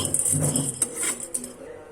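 Gram dal being stirred as it roasts in a pan, with a spoon scraping and clinking against the metal in quick, irregular taps close by.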